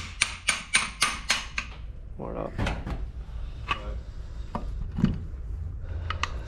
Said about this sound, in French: je vais prendre un petit marteau